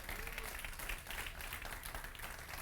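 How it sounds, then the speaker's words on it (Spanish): Congregation applause during a church sermon, a faint, dense clapping from a crowd with a voice faintly present underneath. "Dale un fuerte aplauso al Señor nuevamente."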